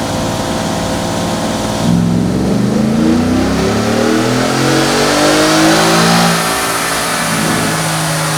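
A 2024 Ford F-150 with a naturally aspirated tune and Whipple intake revs on a dyno in gear, its engine note climbing steadily in one loud, sustained pull with no voices.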